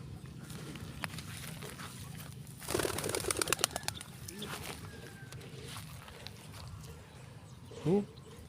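A burst of rapid wing flaps from a released pigeon taking off, fairly close, with outdoor background noise and a brief voice near the end.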